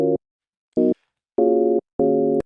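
Synthesizer sine wave chords played through a wavetable synth with a filter, four sustained stabs with gaps of silence between them, heard alone.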